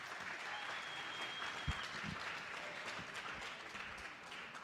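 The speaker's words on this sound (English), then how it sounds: "Give yourselves a nice round of applause." Students give a round of applause in a classroom, a soft, steady patter of clapping from a modest group, distant and fairly quiet, with a few louder knocks.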